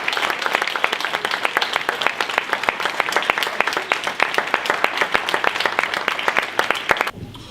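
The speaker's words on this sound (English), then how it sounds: "Please give Nicola a round of applause." A crowd applauding at a Facial Palsy UK special recognition awards ceremony, steady rapid clapping from many hands for about seven seconds before stopping abruptly.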